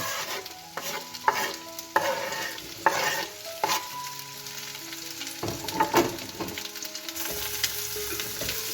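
Chicken sautéing in a pan with chopped garlic, spring onion and onion, for a sweet and spicy one-pot dish: a steady sizzle broken by loud, repeated scraping and clattering stir strokes, close up and with no voices.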